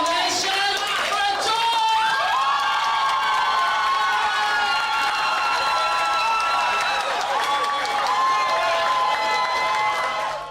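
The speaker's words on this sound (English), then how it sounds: "I need a round of applause and a standing ovation" A crowd at a karaoke competition cheers and shouts loudly and continuously, with high, voice-like tones running throughout and fading out at the end.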